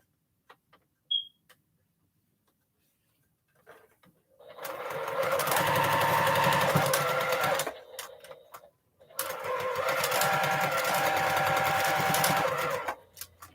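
A home sewing machine stitches in two long loud bursts separated by a short pause, preceded by a few faint clicks; the machine is due for servicing and has been giving trouble.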